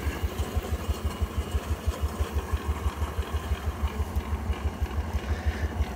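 An 18hp Case portable steam engine runs belted to a Baker fan, chuffing in a steady, even rhythm with a strong low pulse, close and loud with no talk.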